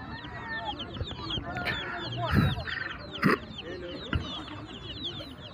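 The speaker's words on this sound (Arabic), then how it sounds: "هذه كذلك كتاكيت صغيرة،" Many chickens cluck and chicks peep continuously at close range at a bird market in Khamis Mushait, Saudi Arabia, with busy poultry chatter and occasional louder squawks, while someone speaks.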